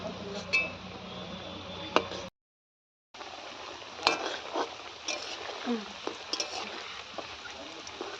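Oil sizzles steadily as soybean chunks fry, with occasional clinks and stirring scrapes from a utensil; a brief silent gap interrupts partway through.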